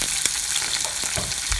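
Onions, green chilies, ginger and curry leaves frying with peanuts in oil for upma, a loud continuous sizzle broken by a few sharp crackles and stirring scrapes, with no one speaking.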